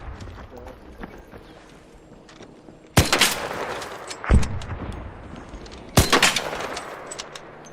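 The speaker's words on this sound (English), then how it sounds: "I will shoot turrets" Video game gunfire from shooting at turrets: a few sharp, loud bursts of shots separated by quieter stretches, with some talk in the background.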